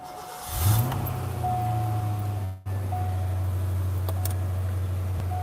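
A Dodge Durango engine cranks over and catches, then settles into a steady, close idle that runs on, with a brief dip partway through.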